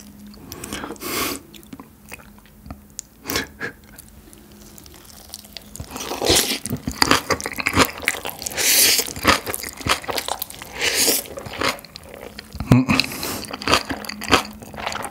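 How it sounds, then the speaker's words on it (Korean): Spicy silbi kimchi crunched and chewed up close, wet crisp bites repeating in bursts with brief pauses, no talking. "실비김치 먹어보겠습니다."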